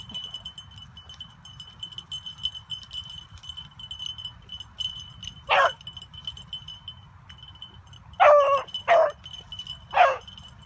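A big dog barks outside on an icy day, a single bark and then a quick cluster of several more, over a steady background hum with distant low rumble.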